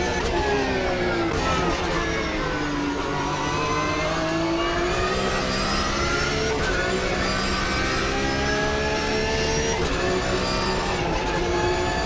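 A Porsche race car engine in Automobilista 2 drones steadily and loud, its pitch sliding down and climbing again as it revs, with no talk over it.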